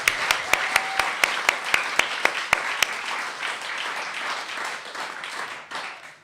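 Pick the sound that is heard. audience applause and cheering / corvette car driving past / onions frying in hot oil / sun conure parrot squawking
audience applause and cheering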